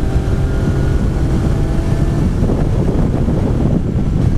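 A Yamaha XSR900 motorcycle pulls in sixth gear on a test ride, a steady loud engine drone blended with heavy wind rush across the microphone.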